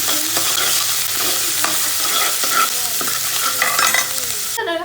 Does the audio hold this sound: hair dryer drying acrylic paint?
no